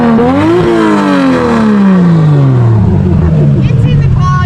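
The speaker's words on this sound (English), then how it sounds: "It's a rev." A loud car engine revs up, then its pitch slowly sinks as it winds down, a close, roaring drone throughout.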